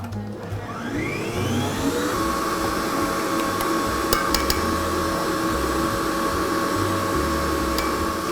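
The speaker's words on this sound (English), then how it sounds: "I'm going to put my mixer back on a quite high speed and add it bit by bit." An electric stand mixer runs at high speed beating butter into coconut cupcake batter, a loud steady whirring drone with a few sharp clinks partway through, and no talk.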